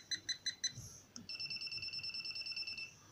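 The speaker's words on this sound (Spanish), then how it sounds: "la diferencia de pitido es notable" A non-contact voltage detector beeps close by. First comes a short run of four separate high beeps, then a faster, steadier string of higher-pitched beeps, all fairly quiet, with no speech.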